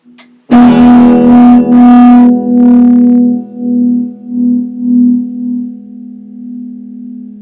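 A distorted electric guitar amplifier feeds back with a loud, sustained, buzzing tone that swells and pulses in waves, thick with effects, before slowly settling into a steady, wavering hum.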